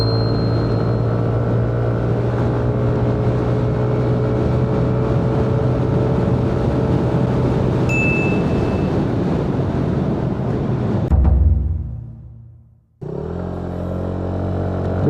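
A Kymco electric scooter with a sodium-ion battery and racing tyres accelerates at half throttle on a race track, giving a loud, continuous whine and wind roar. The sound cuts out abruptly near the end, then resumes.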